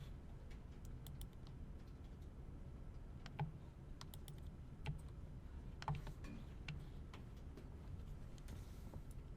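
Computer keyboard typing with scattered key clicks and a few louder strokes, set against a steady background hum, with no voices.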